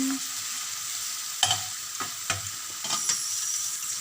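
Garlic and onions sautéing in oil in a frying pan for scrambled eggs with tomatoes, a steady sizzle broken by several sharp scrapes of stirring, with no talk.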